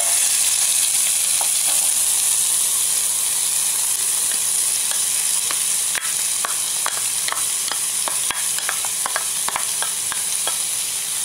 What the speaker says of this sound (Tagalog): Atin na pong igisa lahat ng sahog.